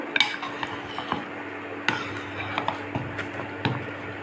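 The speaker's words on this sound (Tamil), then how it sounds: "இப்போ நம்ம இதை நல்லா கிளறி விடுறோம்" A spoon scrapes and clinks around a pot of sweet pongal in uneven strokes, soft metallic taps over a low background hum.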